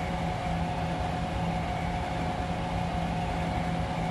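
Steady interior rumble of a Yamanote Line 205 series train in the game Densha de Go, with a constant low hum and tonal motor whine running evenly throughout, no voices.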